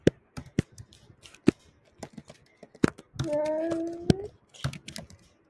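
Code being typed on a computer keyboard, with quick irregular key clicks near the mic, a brief pause and then a short burst of faster typing. A voice speaks one short word.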